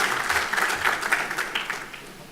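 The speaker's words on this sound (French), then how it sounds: "Sous vos applaudissements," A small conference audience applauds to open a round table on industrial zones, with moderate, uneven clapping that tapers off.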